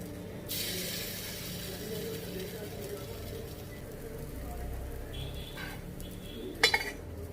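Batter spooned into a hot appe pan over a low gas flame, with a soft hiss and sizzle followed by a couple of close metallic clinks, under a voice.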